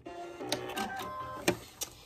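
A sewing machine cuts its thread during quilting on a cake mix quilt block, giving a short run of mechanical whirring and a few sharp clicks, close and fairly quiet.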